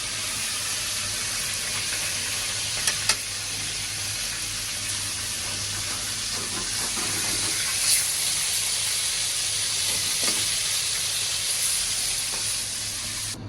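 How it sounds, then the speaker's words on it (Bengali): Rohu fish pieces fry in hot oil in a pan, giving a continuous loud sizzle and hiss throughout, with a couple of faint clinks from turning the fish and no talk. "মাছটা একটু উল্টিয়ে নিলাম"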